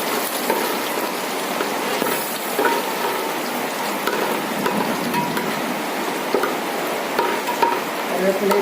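Spices and curry leaves sautéing in a hot pan while cooking fish curry, a steady crackling sizzle with occasional stirring scrapes, close and continuous without any talking.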